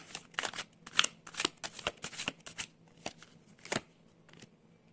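Tarot cards being shuffled by hand, a series of close, crisp riffling bursts and soft slaps that come in quick irregular runs, then taper off into a few quieter shuffles.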